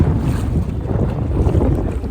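Strong wind buffets the microphone on a boat on the Srisailam reservoir, a constant low rumbling roar with no voices.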